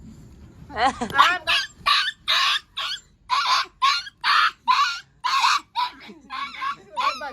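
A dog barks in a quick, steady run of about a dozen sharp yaps, fairly close, with little pause between them.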